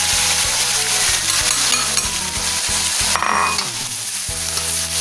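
Garlic is fried in a pan of oil for a village-style sambal penyet, giving a loud, continuous close-up sizzle and crackle with stirring throughout and no voices.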